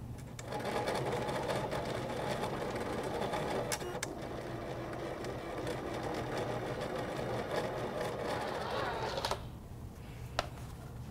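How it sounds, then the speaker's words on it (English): A cutting machine fitted with a fine embossing tool presses a design into a foil notebook, a fast, steady mechanical whirring and buzzing like a sewing machine, close and continuous, stopping abruptly near the end. "once the machine is done embossing, we can gently remove our tape from either side"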